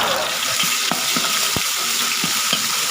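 Loud steady sizzle of red curry paste frying in a large wok, broken by scraping spatula strokes every half second or so.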